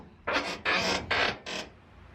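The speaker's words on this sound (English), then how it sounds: "Squeaky door." Four drawn-out squeaky creaks from a door swinging in a garage near a twin-turbo LS engine swapped into a Chevrolet S10 pickup, evenly spaced and fairly close, with no talking.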